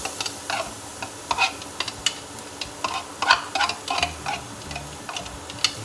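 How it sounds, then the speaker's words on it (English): Garlic frying in hot oil for vegetarian mi sua, giving a soft, close crackle of scattered ticks and light spatters over a quiet bed of sizzle. "I'm going to fry the garlic first."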